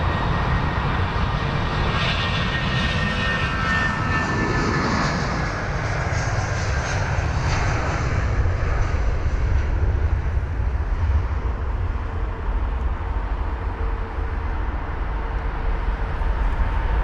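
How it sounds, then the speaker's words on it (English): An Airbus A320 airliner moving at London Heathrow airport gives a close, continuous jet-engine roar with a steady whine that stays loud throughout. "And there it goes on the move, the A320."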